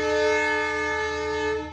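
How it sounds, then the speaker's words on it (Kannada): A train horn blares in one steady, loud tone for nearly two seconds before tapering off, heard alone without talk. "ಟ್ರೈನ್ ಸೌಂಡ್ ಇತ್ತು"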